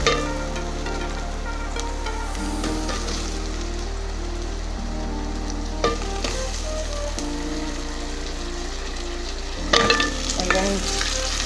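Potatoes added to golden brown onions frying in a pan, a loud continuous sizzle like heavy rain with occasional stirring scrapes and a burst of crackling near the end.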